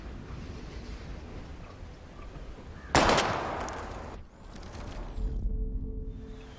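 One sharp, loud gunshot cracks out in Life Is Strange during shooting at bottles, with a brief reverberant tail after it, set against quiet outdoor ambience and a low rumble near the end.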